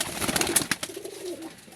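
A golden pet pigeon coos in a short, close burst of soft, throaty calls lasting under two seconds, with no talking.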